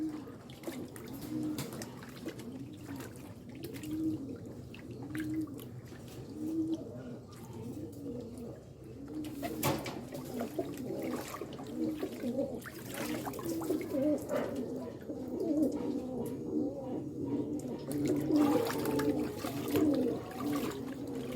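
Racing pigeons coo in a loft, a low rolling, repeated cooing that carries on throughout, with some water-like noise and someone speaking quietly now and then.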